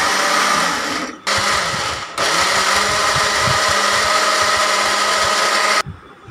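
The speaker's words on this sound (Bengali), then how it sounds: "ব্লেন্ডার করলে একটা সুন্দর স্মুথি একটা আমাদের পালডা হবে" An electric blender pureeing ripe mango for a cake, a loud steady motor whir that drops out briefly twice early on, then runs continuously before stopping near the end, with no voices.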